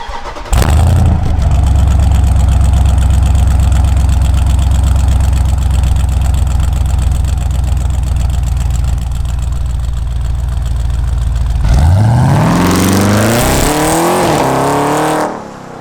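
A Jeep SRT V8 fitted with headers and a Stainless Works exhaust rumbles loudly and steadily up close, then revs sharply near the end with rising and falling engine pitch.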